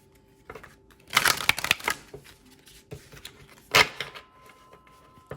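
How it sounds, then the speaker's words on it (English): A deck of oracle cards is shuffled by hand in a quiet room, in two bursts of crisp riffling flaps with softer card taps and handling between them, close and alone. "Let's shuffle one more time."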